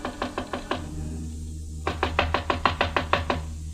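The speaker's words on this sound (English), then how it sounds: "I knocked on Jan Svenson's door" Knuckles rap on a hotel room door as a radio drama sound effect: a quick group of about five knocks, a short pause, then a longer run of about ten firm, close knocks, with no voices.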